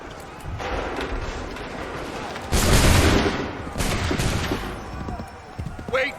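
A musket volley in Assassin's Creed III, a loud crackling burst of overlapping shots with rumbling echoes, then a second smaller burst over ongoing battle noise.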